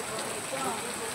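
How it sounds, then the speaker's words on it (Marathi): Heavy monsoon rain pours down at a farm resort in Neral in the Konkan region, a dense, even hiss of drops beating on surfaces throughout. "इकडे बघा पाऊस जोरात चालू झालेला आहे."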